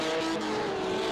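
LMP prototype race cars rush past at the 1000 km of Barcelona endurance race, a loud, close engine roar with a whining pitch that sweeps by in a brief pass.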